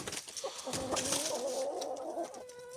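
A backyard flock of about thirty chickens clucks and murmurs, with overlapping calls and a drawn-out squawk rising toward the end; moderately close, no talking.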